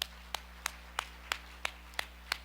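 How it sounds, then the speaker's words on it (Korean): A church congregation claps in unison, eight sharp, evenly spaced claps at a steady rhythm over a low constant hum, with no talking. "깨닫는 분 하나님께 박수로 영광"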